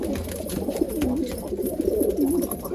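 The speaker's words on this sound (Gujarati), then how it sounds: "જો બે કબૂતર આ નીચે બેઠા છે અને બીજા જો એક કબૂતર આ અને એક આ." Pigeons from Punjab, Malwai breed, coo nearby in a soft, repeated rolling pattern over quiet background noise.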